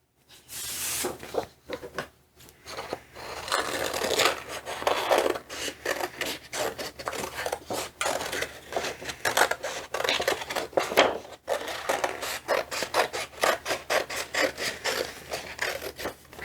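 Scissors cutting out a gelli plate print on paper, a close series of irregular snipping and rasping strokes that come in quick bursts with brief pauses, with no talking.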